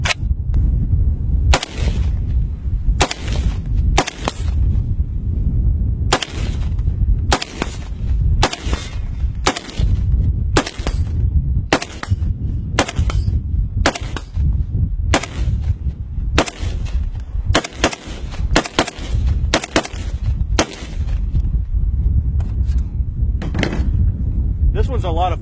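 Rifle firing larger-caliber cartridge rounds, about two dozen sharp, loud cracks at irregular intervals, each with a short booming tail, over a steady low outdoor rumble.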